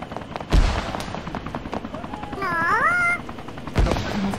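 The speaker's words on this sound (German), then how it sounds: "Wird jetzt von rechts noch geschossen auch?" Gunfire in the military video game Arma 3, sharp loud shots at the start and near the end, with a whining engine sweep and steady background rumble between them.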